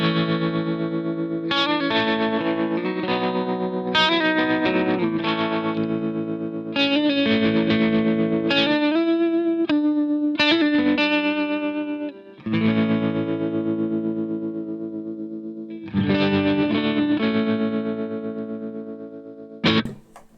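An electric guitar through a Vox AC30C2 amp with the effect turned all the way up plays strummed chords and sustained notes, heavily modulated and distorted, in loud bursts separated by short pauses.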